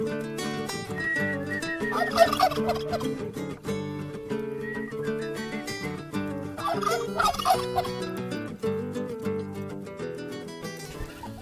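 Several turkeys gobble in loud, rapid bursts, their warbling calls overlapping again and again with no talking.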